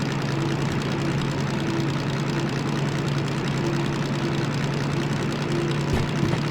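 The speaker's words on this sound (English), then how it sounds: "I love this DM3. I just love the sound of it." A DM3 diesel locomotive in the train simulator Derail Valley rumbles steadily under load, a deep continuous engine drone with a faint recurring tone and no voices.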